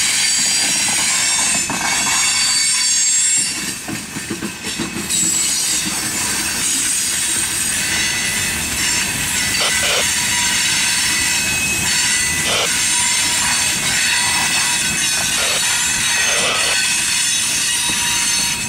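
CSX freight train rolling through Hamlet Terminal on the SH Line, wheels squealing steadily with high sustained screeches over the low rumble and clatter of railcars, loud and continuous for the whole stretch.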